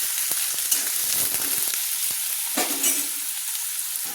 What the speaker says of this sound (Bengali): এবার পেঁয়াজটাকে আমি হালকা ভেজে নিচ্ছি